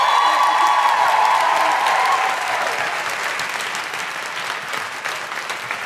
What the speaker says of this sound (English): Big round of applause for Janelle.